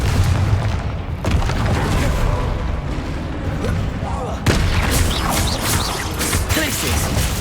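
A Confringo explosion spell in the video game Hogwarts Legacy lands as a couple of heavy booms, each a sudden burst over dense, continuous game sound.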